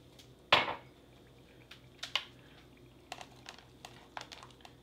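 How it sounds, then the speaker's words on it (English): A spoon scrapes and clinks in a pouch of Swedish combat ration chicken masala being stirred with warm water, with one sharp clack followed by a scattered series of lighter taps and rustles at close range. "Give that a mix."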